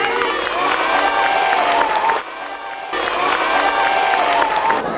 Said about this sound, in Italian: Un applauso apposta a Fibreno, che ha recuperato parecchio